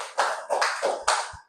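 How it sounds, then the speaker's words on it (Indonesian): Short clapping for a group in a university teaching session. Four or five distinct, close hand claps sound in a loose rhythm, with a couple of soft thumps near the end. "Silakan tepuk tangan kepada kelompok bawang merah"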